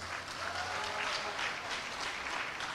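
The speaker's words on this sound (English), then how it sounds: "A round of applause for the recipients." An audience applauds recipients at a World Food Day event with a steady, fairly soft patter of many hands clapping, heard from a distance and sustained throughout without a break.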